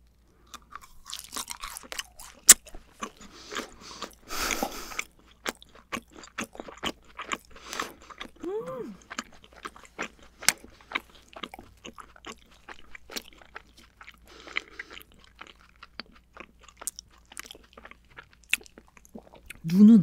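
Crunchy, chewy bites into a giant octopus-shaped cake, its orange-flavoured eye dipped in honey, with close repeated crunching and soft mouth sounds throughout, plus brief wet sticky noises and no talking.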